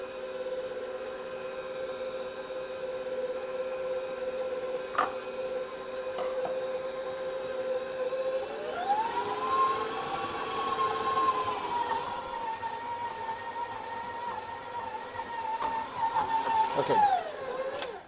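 Electric hand mixer beating thick, stiffening gooey butter cake batter for an almond cake, a steady continuous motor whir that rises in pitch partway through and runs loud and unbroken with no talking.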